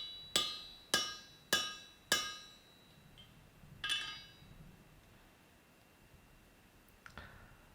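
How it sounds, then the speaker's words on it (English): Four sharp metallic hammer strikes on a hot set driven into hot steel to deepen a split ring out in an even rhythm, followed by two more spaced, fainter blows, each with a brief bright ring. "simply hammer down on this in order to deepen this split."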